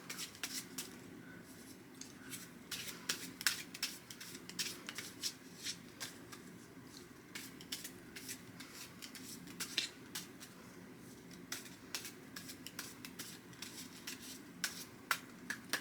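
A deck of playing cards is shuffled, a run of quick crisp riffling clicks and flutters repeating steadily at close range, with no talk.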